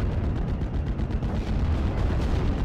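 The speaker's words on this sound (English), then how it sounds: "Off-map artillery is coming in to help out against our advance." Off-map artillery fire in the WWII strategy game Steel Division: Normandy 44, a dense continuous rumble of heavy booms and low impacts rolling together without pause, loud and close with no voices.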